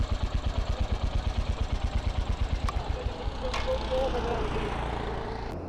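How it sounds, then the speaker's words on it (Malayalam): A 2025 Royal Enfield Hunter 350 single-cylinder motorcycle idles with a rhythmic, thumping exhaust beat, then a rev blips into a smoother, louder hum. Someone talks over part of it. "ഒരു ഫൺ എക്സോസ്റ്റ് നോട്ടാണ്."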